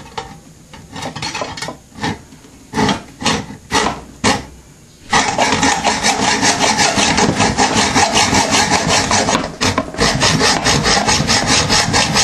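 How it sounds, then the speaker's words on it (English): A hacksaw cuts off excess metal stock on a homemade tool, first in a few separate strokes, then in a steady, continuous rasping rhythm, close and loud with no talking. "And that I will cut off with a hacksaw."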